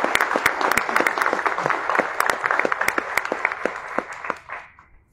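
Audience at a Paraguayan book presentation applauding National Literature Prize winner Ramón Moncho Azuaga: a burst of crowd clapping with sharp individual claps up front, steady for about four seconds then fading out.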